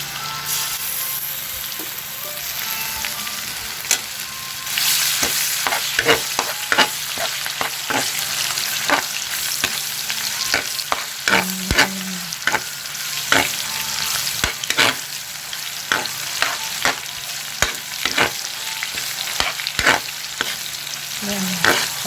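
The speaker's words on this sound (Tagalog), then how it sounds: "Prito nyo yung tomato paste." Steady sizzling of tomato paste frying in hot oil, with frequent clicks and scrapes of a utensil stirring the pan throughout.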